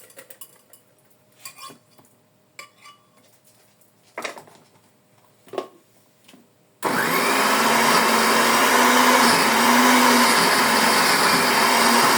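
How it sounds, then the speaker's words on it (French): A kitchen blender kicks on abruptly partway through and runs loud and steady, mixing cooking ingredients toward a smooth blend, preceded by scattered light clinks and handling knocks of dishes and utensils. "Mixer jusqu'à obtenir un mélange homogène. Bah oui, mais il faut déjà que ça mixe."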